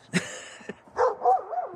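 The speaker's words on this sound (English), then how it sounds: "my dog's having fun barking at the neighbors." A dog lets out a sharp bark, then a couple of higher, drawn-out yelping barks, close by and fairly loud.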